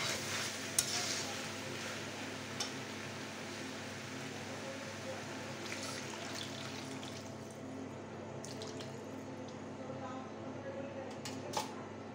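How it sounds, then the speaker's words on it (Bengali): Cooking jackfruit and meat simmer and sizzle steadily in a pot while broth goes in, giving a continuous bubbling, watery hiss with a few light clinks of utensils. "এবার আমি ঝোল দিয়ে দেবো।"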